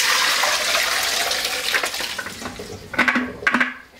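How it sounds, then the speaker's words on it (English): Blanched garden vegetables are poured into a strainer, and the water rushes and splashes steadily as it drains. Toward the end come a few close clattering knocks of the strainer against the sink. "Let that water drain off a little bit."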